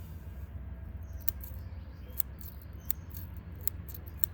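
Several sharp, short snips of scissors trimming the roots of a willow seedling at irregular intervals, fairly close, over a steady low rumble of background noise.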